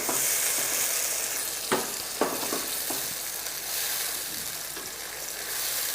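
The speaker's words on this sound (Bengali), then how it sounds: "এখন এই পর্যায়ে আমি দিয়ে দেব 4 চামচ পরিমাণ টক দই। এটাকে একটু ভালো করে মিশিয়ে নেই।" Sour yogurt is stirred into a sizzling spice paste for koi fish curry, giving a continuous loud frying hiss close by. A few distinct spoon scrapes and knocks sound through the sizzle, with no voices.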